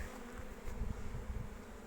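Buckfast honeybees buzz in a low, steady drone throughout, close by, with slight swells in loudness and no voices.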